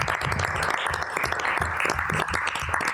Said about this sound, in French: on pourrait peut-être leur donner une bonne main d'applaudissement